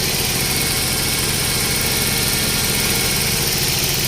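A car engine idles steadily while its automatic transmission fluid level is checked, a constant close, loud low rumble with a smooth mechanical hum and no talking.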